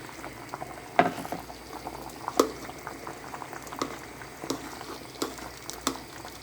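Bahamian dumpling soup with spinach boils in a big pot, a steady close bubbling and popping with scattered louder plops and no voices.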